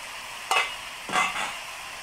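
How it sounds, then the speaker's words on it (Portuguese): Ground beef sizzles in a pan over onion and bacon, a low steady hiss with two louder scraping stirs of a spoon, close by, no one speaking. "aqui a gente vai refogar também essa carne moída"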